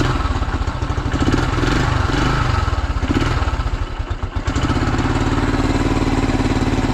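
A 1974 Honda XL250 motorcycle engine idles while warming up, a steady, loud, close single-cylinder putter that wavers unevenly before settling into a smoother, even idle.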